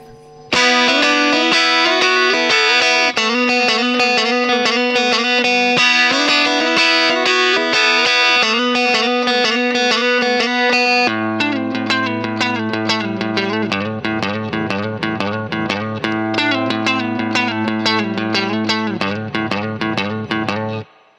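An electric guitar plays through a Fender H.O.T. tube amp on the bright channel, a driven, slightly distorted riff of repeated notes, then a chunkier, lower pattern joins in, loud and continuous.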